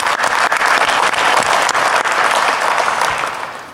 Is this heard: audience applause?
yes